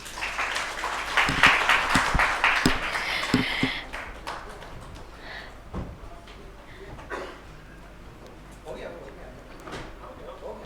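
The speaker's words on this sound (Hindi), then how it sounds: "तालियां कम हो रही हैं।" Audience applause at a Hindu religious gathering, a dense burst of clapping for the first few seconds that fades out, followed by someone speaking over the quiet hall.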